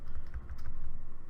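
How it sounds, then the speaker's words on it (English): Computer keyboard keys and a mouse control-click in Photoshop, a quick run of soft, muffled taps close by, fairly even in rhythm, with no voices. "So I'll control click on the layer above to bring up my selection."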